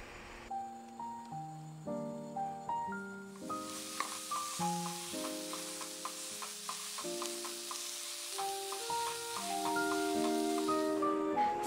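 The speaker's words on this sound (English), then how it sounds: "Meanwhile, I'm going to cook Italian sausage as a topping for my family who loves meat." Italian sausage sizzles in a pan, a soft steady frying hiss that rises later, heard beneath prominent piano music with no talking.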